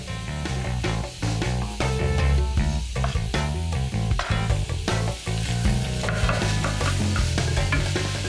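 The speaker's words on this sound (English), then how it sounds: "Just keep working that chicken mince, breaking it down." Steady, busy sizzling of chicken mince frying in a hot pan, with repeated scraping and stirring strokes as it is broken down.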